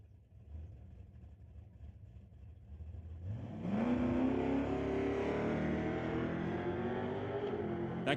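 A street legal drag race car starts quiet and distant, then launches into a loud shakedown pass at a drag strip, its engine revving hard with a rising whine that holds strong to the end.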